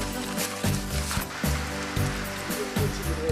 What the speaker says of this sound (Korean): 새벽녘부터 쌓인 노독을 달래주기라도 하듯 빗소리가 경쾌하게 울려 퍼집니다